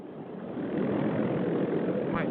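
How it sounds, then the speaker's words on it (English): A powered paraglider engine runs in cold winter air during flight, a steady buzzing drone heard up close with wind noise and a brief voice near the end. "My engine sounds funny."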